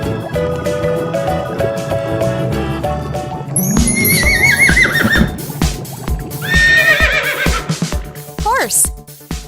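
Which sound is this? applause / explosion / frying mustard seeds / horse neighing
horse neighing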